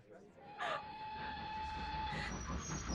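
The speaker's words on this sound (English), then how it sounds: "There's my train." A train pulling into a station, its whistle sounding in short blasts over a steady rumble and hiss that continues throughout, with a voice briefly audible.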